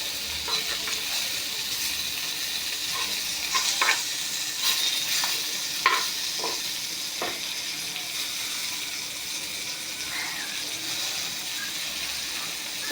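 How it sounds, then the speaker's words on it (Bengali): Fish fries in a pan with a steady, close hiss of sizzling oil, broken by occasional clinks and scrapes of stirring. "এই যে হয়ে গেল মাছ ভাজা।"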